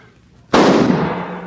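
A single sharp rifle shot from an old-fashioned frontier-era rifle cracks loud and close, then trails off into a long, rolling echo.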